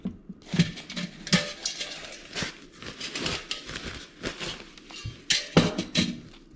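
Metal clinks and small clattering knocks from a Solo alcohol stove being handled, a series of sharp, close taps and rattles scattered irregularly throughout, with no talking.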